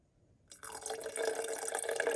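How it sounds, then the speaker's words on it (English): Filtered water poured into a sourdough starter jar begins suddenly after a brief silence, a faint, close trickling splash that keeps going steadily to the end. "I pour in 100 grams of water. This is filtered water."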